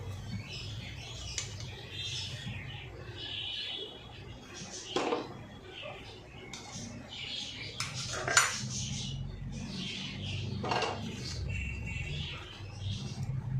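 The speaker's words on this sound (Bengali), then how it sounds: "একটা ফ্রাই প্যান বসিয়ে দিয়েছি" A frying pan set on a kitchen stove for tempering sambar dal, with a few metallic clanks and scrapes of cookware, close and intermittent over a low steady background.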